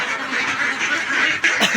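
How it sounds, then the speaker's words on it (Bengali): A flock of Peking ducks quacking loudly and continuously up close, many overlapping calls with no talking. "এখন হাঁসগুলোকে বের করে দেওয়ার আমি নিজেই চেষ্টা করতেছি"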